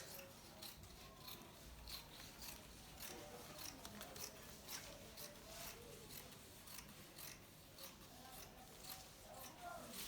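Scissors snip through fabric while cutting out a pencil gown at the zipper allowance, a steady run of close, crisp blade strokes repeating over a soft rustling background.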